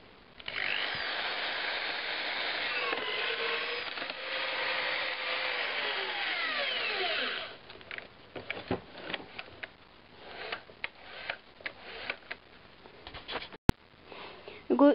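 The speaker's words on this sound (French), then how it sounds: "je vais trouver le courage de percer, donc c'est parti" A power drill with a drill bit bores a hole while making a pneumatic pin, giving a steady whining motor tone whose pitch swings up and down for several seconds, then breaks into short, scattered bursts and clicks, fairly faint.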